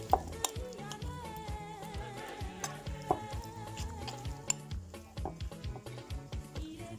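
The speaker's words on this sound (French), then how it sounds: "Bien mélanger." Food stirred in a pan on a home stove while preparing a New Year's Eve dish with lemon, scraping and clinking repeatedly in an irregular rhythm over a soft sizzle, close by and fairly quiet.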